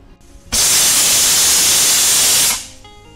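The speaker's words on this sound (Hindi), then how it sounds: "वापस से मैं कुकर का ढक्कन लगा के मीडियम फ्लेम पे 1 सीटी आने तक पकाऊंगी।" A pressure cooker cooking khichdi on a medium flame lets out one loud, steady whistle of venting steam. It starts abruptly, holds for about two seconds and then cuts off, with no talking over it.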